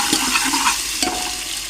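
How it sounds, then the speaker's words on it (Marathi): Food fries in a pan with a little salt, producing a short, loud burst of close sizzling with a couple of quick stirring scrapes. "ते चांगला भाजावं म्हणून त्याच्यात टाकायचं थोडंसं मीठ, त्याला फ्राय करून घ्यायचं मीठ."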